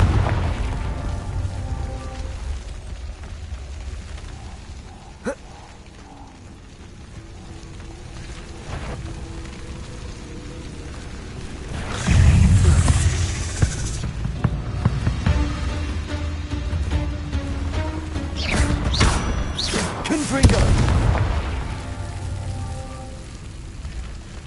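Confringo blasting spells going off in Hogwarts Legacy: muffled booms rise out of a steady rain-like hiss of ambient game sound, with a heavier cluster of blasts midway and another near the end.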